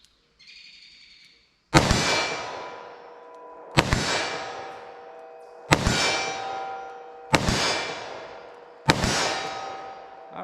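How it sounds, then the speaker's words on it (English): Five loud, sharp gunshots from a .327 Federal Magnum revolver firing handloads at a 25-yard target, evenly spaced about two seconds apart, each with a ringing decay; a faint tone precedes the first. "So let's shoot from 25 yards to start with, to see what kind of practical accuracy and follow-up shots I can get with this"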